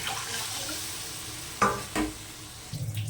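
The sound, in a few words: pouring water into fish curry spices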